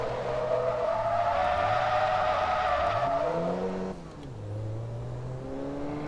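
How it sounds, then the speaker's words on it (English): Car drifting in Forza Motorsport 2, engine pitch sweeping up and down as tires squeal in a long skid, loud and close, then easing off before revving again. "That counts as a drift, right?"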